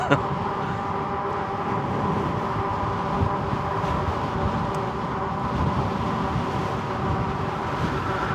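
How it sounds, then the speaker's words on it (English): Constant loud wind buffeting the microphone while riding an e-bike on a road, a dense low rumble that runs steadily throughout with no pauses. "the wind is so hard right now, I literally cannot hear anything that's coming out of my mouth"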